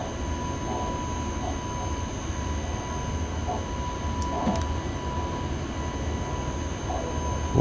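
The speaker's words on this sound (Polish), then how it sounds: "No i dość cichy ten traksik jest." A Traxx electric locomotive in the SimRail train simulator hums steadily at speed, a quiet, even rolling drone with a faint whine and occasional soft clunks, with no talk over it.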